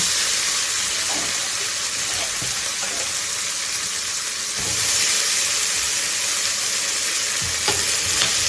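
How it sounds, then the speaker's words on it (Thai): Onion sautéing in salted butter for a mushroom pasta sauce, a loud, close, continuous sizzle with occasional stirring scrapes and a brief swell midway. "ใส่เนยเค็มลงไปนะคะ หอมใหญ่ค่ะ"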